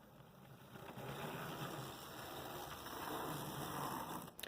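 A small Athearn Blue Box DD40 model locomotive's single electric motor runs with a faint, steady whir and light mechanical rattle, with no talking.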